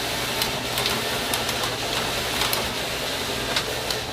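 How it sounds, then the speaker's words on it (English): A knitting machine making sweaters runs loud and steady, a dense mechanical whir with rapid light ticks and rattles repeating throughout, close and continuous with no pauses or voices. "Oh, that's a knitting machine."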